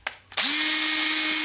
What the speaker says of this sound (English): So the drill now is assembled.